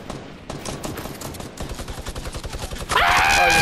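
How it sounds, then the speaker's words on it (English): A minigun in the video game Fortnite fires a long, rapid, unbroken burst of rattling shots, loud and close, that swells sharply near the end as a high whine comes in. "Oh, you're so cool with that minigun."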